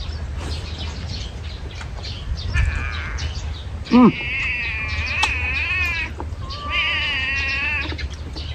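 A cat's meow rises briefly out of steady background noise, followed by wavering, cry-like animal calls, with no clear talking.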